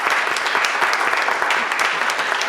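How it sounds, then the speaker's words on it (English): Audience applause for school board candidates at a district candidate forum, dense steady clapping from a room full of people, loud and continuous throughout. "I want to give the candidates a great round of applause"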